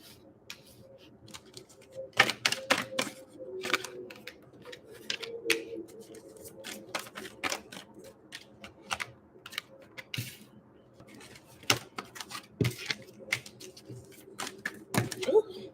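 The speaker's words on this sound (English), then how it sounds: "Pull some cards out here." Tarot cards are shuffled and pulled from a deck in scattered sharp taps, riffles and flicks, close and irregular throughout, with a person talking over them.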